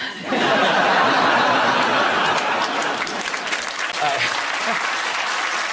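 Sustained applause from a television studio audience, steady clapping filling the whole stretch with a few scattered chuckles mixed in.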